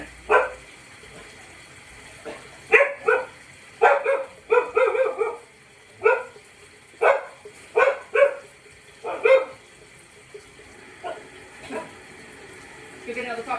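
Puppies bark in short bursts, some single yips and some quick double or triple barks, at close range during a bath, with faint background noise and no clear talk between barks.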